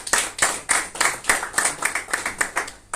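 Rhythmic hand clapping at an IMA Goa medical association gathering in Goa, with about a dozen distinct, fairly close claps in a steady beat and no voices.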